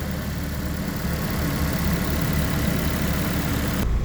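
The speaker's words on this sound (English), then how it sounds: "With the motor running." The engine of a 2017 Ford Fiesta idles with a steady, close, even hum and vibration from start to finish, with no talking.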